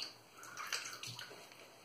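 A brief, faint trickle and splash of water poured into a small container, heard alone in a quiet room, while building a shaving soap lather with a badger brush.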